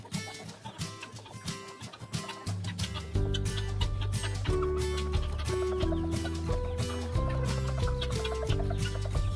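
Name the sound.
guinea fowl calling on a farm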